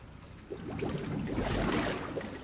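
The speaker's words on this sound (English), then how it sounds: "Why is the water making sounds?" Water in the flooded area of Resident Evil 7 gives a faint, murky sloshing and trickling that swells gradually over a couple of seconds, low in level and without speech.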